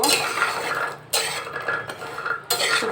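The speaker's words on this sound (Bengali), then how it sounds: "নেড়ে নেড়ে ভেজে নিতে হবে কাঁঠালের বিচিগুলো" Jackfruit seeds frying in oil in a pan, stirred with a utensil: a broad sizzling hiss broken by two short pauses, with scraping and clinks of the utensil against the pan, close and fairly loud with no talking.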